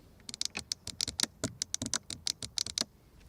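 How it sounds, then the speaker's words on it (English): Window switches in an Audi Q3 Sportback click repeatedly, a quick run of crisp, close plastic clicks in an irregular rhythm, heard alone in a quiet cabin. "Nice clicking sound for the window levers."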